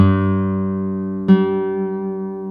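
Single sustained note on an early-1980s Horabe Model 35 classical guitar made in Kobe, Japan, ringing rich and steady with a second pluck re-sounding partway through, then slowly decaying, close and alone.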